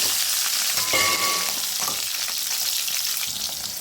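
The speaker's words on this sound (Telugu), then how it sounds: "ఇప్పుడు ఇందులో మనం కట్ చేసుకున్న పచ్చిమిరపకాయలు కూడా వేసుకొని ఫ్రై చేసుకున్నాము." Loud, continuous sizzling of cut green chillies frying in a hot pan for tomato chutney, with occasional stirring clinks.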